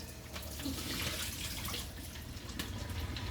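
Water pours and drains through a strainer of rinsed vegetables, a soft continuous splashing rush with faint drips, close but quiet.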